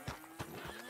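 A video-game horse gives a short whinny over a quick series of hoof clip-clops, close and clear, all within about a second.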